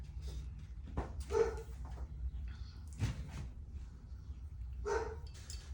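A female dog barks indoors while looking out a window, a few separate barks spread across the stretch, moderately near, over a low room hum.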